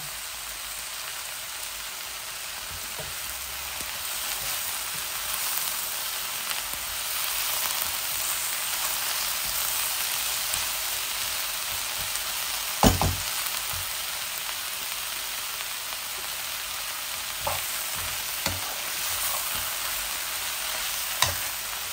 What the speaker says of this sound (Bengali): আর একটু লাল লাল করে ভেজে নিই, তো খুব সুন্দর একটা ঘ্রাণ আসবে।